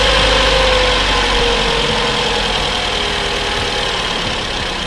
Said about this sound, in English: we can do a starter motor check